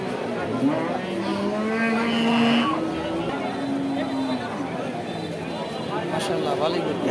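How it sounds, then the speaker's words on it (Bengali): Cows lowing at a busy cattle market, several long moos rising over continuous crowd chatter and people talking nearby, the bellows fairly close and loud. "অনেক গরু উঠছে"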